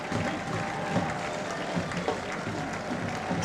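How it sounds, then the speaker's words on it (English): A soccer stadium crowd applauds steadily as a player is substituted off, the broad clapping sustained evenly throughout at moderate distance. "Who else gets an applause like that?"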